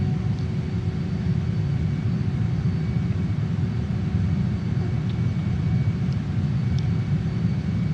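A Saab JAS-39 Gripen jet on final approach with gear down near Minsk Lakes, Belarus, in Microsoft Flight Simulator, a steady low engine rumble and hum droning on continuously without voices.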